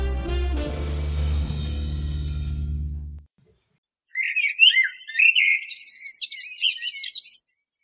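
A blackbird sings alone after a pause, a bright run of warbling, fluting phrases that sounds fairly close. Before it comes a stretch of low, unrelated tonal sound.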